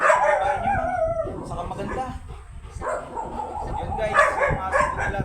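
A Golden Retriever whines and yips in high, wavering howls, mixed with people talking nearby.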